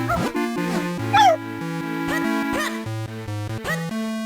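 A dog in The Legend of Zelda: The Minish Cap barks in a couple of brief, high yips over bright, continuous chiptune game music.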